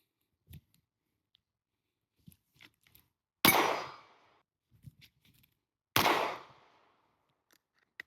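Two sharp pistol shots ring out about two and a half seconds apart during drawing-from-concealment practice outdoors, each with a quick decaying tail, separated by faint small handling noises.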